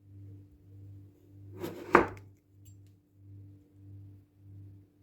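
Chocolate sausage being cut into thin slices with a knife, one distinct crisp cut landing on a board over a faint low, pulsing hum, quiet otherwise.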